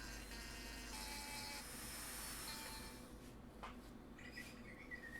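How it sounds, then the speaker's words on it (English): A handheld Dremel rotary tool etches a logo into skis with a high, steady whirring grind, close by and continuous, then easing off toward the end into quieter scraping, with no speech. "So I'm going to do it by hand with a Dremel tool."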